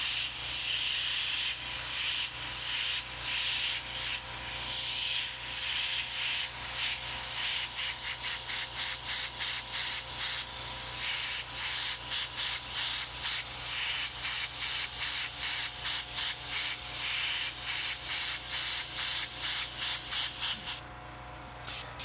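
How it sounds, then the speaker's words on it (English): An airbrush sprays paint onto a T-shirt for a graffiti lettering design. Its close, continuous hiss pulses in quick, rhythmic bursts throughout and cuts off briefly at the very end. "I'm coming in at an angle so that the overspray lands inside the letters instead of outside the letters."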